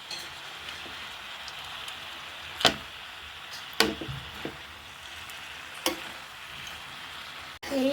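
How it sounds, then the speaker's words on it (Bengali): Malabar spinach fruit and prawns frying in a pan while being stirred, a soft steady sizzle broken by a few sharp scrapes and knocks of the spatula. "এইভাবে নাড়িয়ে চাড়িয়ে কষাতে হবে গাইস"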